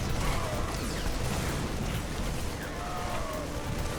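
Mine shots bursting during a StarCraft II match between Protoss and Terran armies, a dense continuous crackle of explosions and battle noise with faint whistling streaks, steady and loud throughout.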